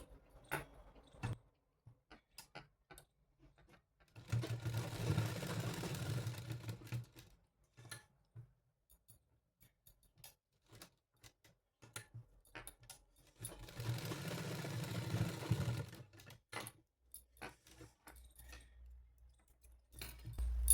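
A sewing machine stitches the neckline seam of a nighty in two separate short runs of steady motor whir, with quiet gaps of faint clicks and handling between bursts.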